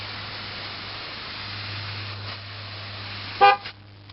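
A steady hiss of air escaping from a car tire continues during a tire pressure relearn, then a short car horn honk sounds once, followed by a brief fainter toot.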